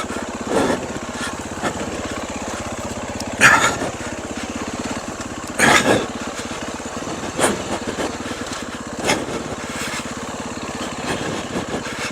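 An off-road motorcycle fitted with aftermarket clutch weights rolls downhill on a dug-out trail with the clutch mostly in, its engine putting along close by and breaking into short louder revs every couple of seconds.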